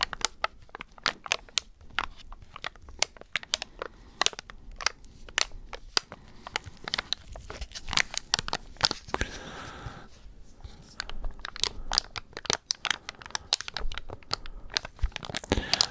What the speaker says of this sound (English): Their favorite little packets here. Just some gentle crinkling.